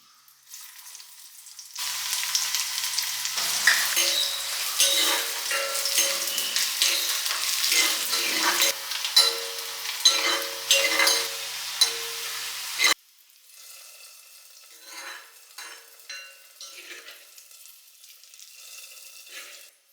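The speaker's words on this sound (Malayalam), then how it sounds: "ഇനിയിപ്പോൾ നമുക്ക് അതിൽ വറുത്തിടണം. അതിലും വെളിച്ചെണ്ണയിൽ ചെറിയ ഉള്ളിയാണ്." Loud, crackling sizzle of shallots frying in hot coconut oil that goes on for several seconds, then drops off to a quieter, fainter sputter.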